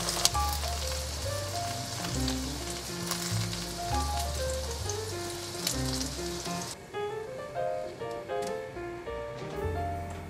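Cabbage cakes pan-frying over medium-low heat give a steady sizzle that sits under loud background music, easing somewhat partway through.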